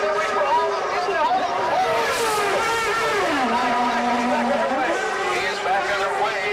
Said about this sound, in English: You can hear that engine revving up